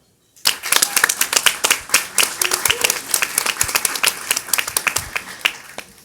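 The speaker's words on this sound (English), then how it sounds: "So applause for Maureen." A small audience at a festival panel on club culture and disability claps after a speaker is introduced. The claps begin abruptly, stay distinct and fairly close, keep up for several seconds, then taper off.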